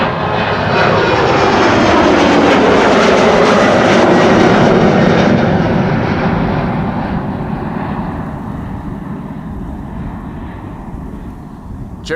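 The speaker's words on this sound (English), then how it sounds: "This is Eastern Airways, aka Britty Hopper, flying on behalf of KLM to Leeds." Eastern Airways propeller airliner taking off at Amsterdam Schiphol, flying for KLM to Leeds: a loud, broad engine roar that holds steady for several seconds, then fades gradually as the aircraft climbs away.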